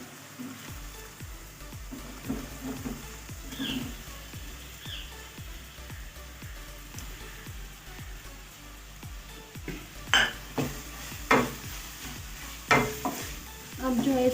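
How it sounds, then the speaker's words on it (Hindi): Onions sizzle softly in a hot pan for karela daal chana while a spoon stirs with regular scraping strokes, growing louder clanks near the end. "अब मैं इसमें प्याज डाल दूँगी"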